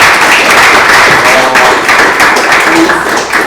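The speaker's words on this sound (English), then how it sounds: "Please give him a round of applause." A live audience at a Startup Grind Cluj-Napoca talk breaks into a round of applause, a dense, loud, sustained wash of clapping that holds steady throughout.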